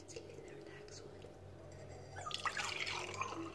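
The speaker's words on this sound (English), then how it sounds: "pour the milk into this cup, the super dad one" Milk poured into a novelty mug printed with a dad slogan, a soft liquid trickle and splash rising in the second half, close by, under quiet whispered talk.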